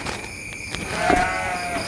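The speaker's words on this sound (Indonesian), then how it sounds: "Ini suara kambing, bukan suara babi." A single short goat bleat rises briefly near the middle of the recording, faint to moderate, over a steady background of buzzing night insects.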